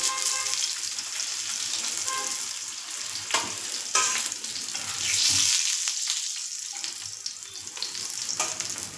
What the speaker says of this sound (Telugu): చేప ముక్కలు కానీ ఇంతకన్నా ఎక్కువ కాల్చుకోకూడదండి గట్టిగా అయిపోతాయి